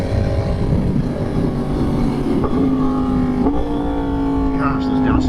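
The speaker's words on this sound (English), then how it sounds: "those downshifts sound so good" A 1000cc sport motorcycle with a quick shifter drops through gears, its loud, close engine note stepping and blipping with each downshift, rising in pitch as the revs jump.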